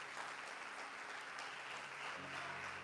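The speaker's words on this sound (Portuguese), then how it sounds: "Dê uma salva de palmas para Jesus" A church congregation claps together in a sustained, dense round of applause filling the hall, with a low sustained tone entering near the end.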